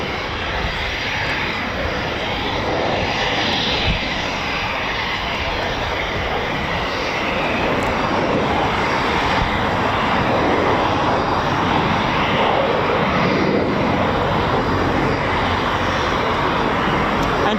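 At an RAF airbase, a military jet engine roars steadily and loudly as aircraft prepare for departure, a broad continuous rumble holding for the full length with little variation.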